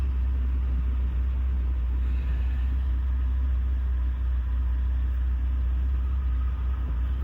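A 2006 Dodge Viper engine idles steadily after a hot start at operating temperature, a deep, even rumble that holds loud and close without variation, with no voices over it.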